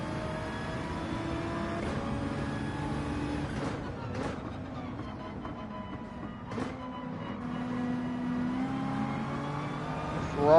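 Ferrari race car engine in Gran Turismo 7 during a qualifying race, a steady droning whine with gear-shift breaks and rising pitch sweeps, continuous and fairly close with no talk.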